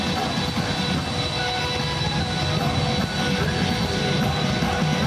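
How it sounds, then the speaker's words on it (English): Engines of the US presidential aircraft humming on arrival at an airport in Malaysia, a steady deep broadband drone that holds level throughout, with no clear change in pitch. "The sound of the engines hums deeply in the air"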